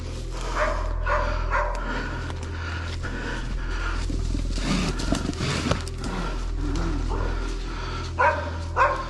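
A hunting dog barks in a Russian forest while a bear charges, with the barks coming in bursts amid growling and roaring and a person's voice heard at times.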